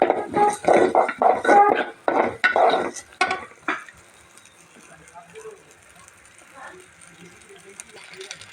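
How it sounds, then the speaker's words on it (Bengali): Rice and lentils dry-roast in a pan with a little oil, stirred in a quick series of loud scraping, rattling strokes before settling to a faint, low sizzle. "দেখো কত সুন্দর চালটা মুচমুচে বাঁধা হচ্ছে"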